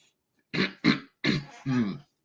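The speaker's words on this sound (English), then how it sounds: "I had to clear my throat" Four quick, harsh throat-clearing bursts from one person, close and loud, in two pairs separated by short gaps, the last one longer and more voiced.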